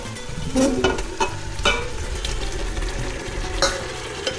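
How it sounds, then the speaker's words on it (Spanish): Meat for Uzbek plov frying in hot oil, a dense continuous sizzle with occasional scraping and clatter as it is stirred and pushed around the pot, close and loud. "el aceite caliente y todo, todo lo que soltó la carne, ahora regresamos la carne otra vez hacia aquí"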